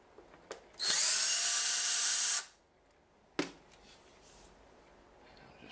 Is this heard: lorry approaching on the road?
no